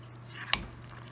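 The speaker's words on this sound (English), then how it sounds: "we're just going to go ahead and stir, get everything nice and even" A single spoon clinks sharply against a bowl once while stirring melted white chocolate, a brief, quiet metallic tap over a faint background hum.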